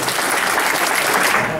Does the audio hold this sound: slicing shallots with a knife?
no